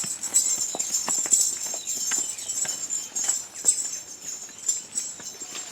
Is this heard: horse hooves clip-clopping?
yes